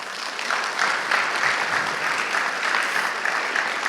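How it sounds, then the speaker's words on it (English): A college audience applauding at a State of the College address, a sustained crowd of steady clapping throughout, fairly loud and close. "That's a big applause."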